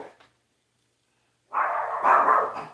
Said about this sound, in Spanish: ¿por qué ladran así?